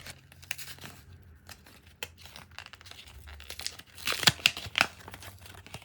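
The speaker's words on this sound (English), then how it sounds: "Now rotate the pencil's tip smoothly on the sandpaper." A pencil tip is rubbed and rotated against sandpaper, giving soft, close scratchy rasps in short strokes, with a brief busier burst of gritty scraping near the end.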